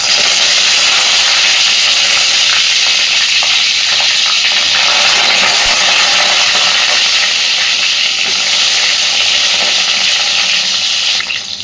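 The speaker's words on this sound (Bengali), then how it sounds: "পটলগুলোকে আগে সুন্দর করে ভেজে নেব" Whole slit pointed gourds (potol) frying in hot oil, a steady loud sizzle and hiss that runs unbroken from start to finish with no voices over it.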